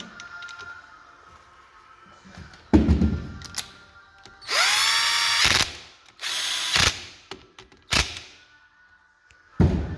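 Two bolts are tightened on a Honda Titan 150 motorcycle engine with a power tool: several loud mechanical bursts of rising whine and rapid ratcheting, separated by short pauses with light metallic handling clicks.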